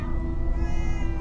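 A sustained cat meow from the Minecraft Story Mode video game sits over a low background hum, one drawn-out call lasting about a second.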